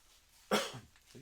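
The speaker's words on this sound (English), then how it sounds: "She's got the coughs." A single short, fairly loud cough from a woman, with a faint breathy trailing sound after it.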